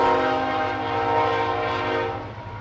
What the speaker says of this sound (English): We have a train.